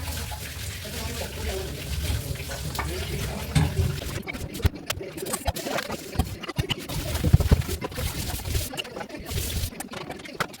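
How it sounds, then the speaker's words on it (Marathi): Dishes being washed under a running kitchen tap, with a continuous splash of water mixed with scattered clatters of utensils, close by, with faint background noise throughout. "तोपर्यंत जी भांडी धुवून टाकायची"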